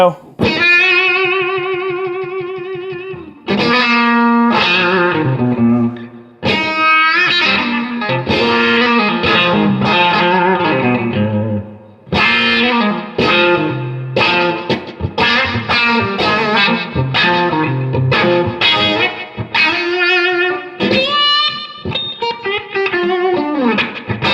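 An electric guitar on the bridge pickup, tone fully open, plays through a Spaceman Effects Polaris resonant overdrive pedal, giving sustained chords and riffs with a gritty, vocal, wah-like resonant sweep, loud and continuous.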